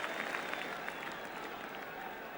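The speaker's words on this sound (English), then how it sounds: "The crowd enjoying this." A football crowd at an Arsenal vs Manchester United match in 1976 keeps up a steady wash of cheering and applause, broad and somewhat distant, with scattered claps standing out.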